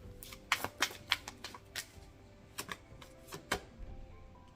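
Tarot cards are shuffled by hand in a quiet room, a string of crisp riffling bursts and taps at an uneven pace, close and fairly loud with no talking.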